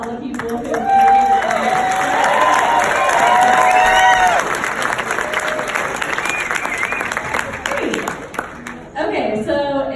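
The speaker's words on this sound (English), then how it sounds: "can we get a round of applause" Audience applause and cheering at a speech event for MS, loud sustained clapping with whoops and shouts from the crowd that fades out near the end, followed by a voice beginning to speak.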